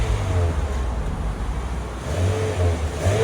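A 2020 Nissan Altima SR with a 2.5L four-cylinder engine and stock exhaust idles and revs quietly, a low steady hum swelling in a couple of mild blips, close by with no talking.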